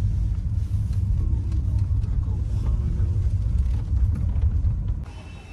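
A car rumbles steadily at close range as it pulls into a hospital parking area by a tehsil office in Araspura, its engine a low, continuous drone that drops away abruptly near the end.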